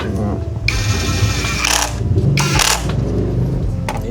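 An impact driver or ratchet with a 12mm socket works on a Triumph Trident 660 motorcycle brake, giving close, loud bursts of mechanical clicking and whirring in two main runs.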